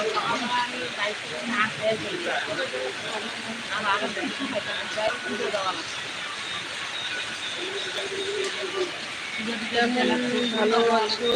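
Steady rain pours onto a road, a constant close hiss that fills the whole stretch without letting up, with voices talking faintly underneath.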